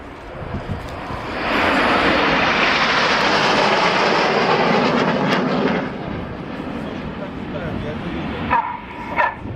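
Red Arrows jets flying a formation display, a loud roar that swells and holds for several seconds before fading, with sharp dog barks near the end and a commentator talking.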